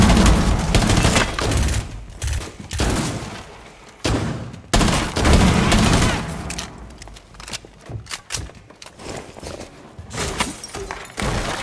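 In Rainbow Six Siege gameplay, loud bursts of gunfire and booming blasts tied to a C4 detonation hit in rapid dense volleys, fading into scattered shots and rumbles.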